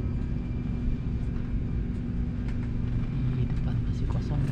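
Inside a passenger plane cabin, a steady low engine drone and airflow rumble hum throughout, with people talking over it.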